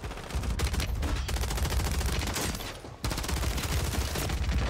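Dense, continuous gunfire from Warzone fills the whole stretch, rapid overlapping shots with a brief dip near the middle before the barrage resumes, loud and close.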